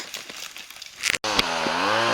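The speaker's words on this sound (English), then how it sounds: "My dad's out there on the chainsaw." A chainsaw revs up and cuts loudly and close while trees are cleared on a farm plantation site, starting after a brief crackle of handling and a short gap, then holding a strong, steady engine whine.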